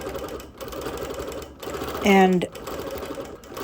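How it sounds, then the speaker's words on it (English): A sewing machine outline quilting on a wool quilt mounted sideways on a frame, a brief whirring stitch burst heard under a person talking nearby. "the quilting by far is mostly this, outline quilting all the little shapes"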